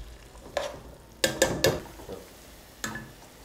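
Onion frying in butter and ghee, with a steady soft sizzle broken by several sharp scraping and clinking stirs of a spoon against the pan, close and without talk.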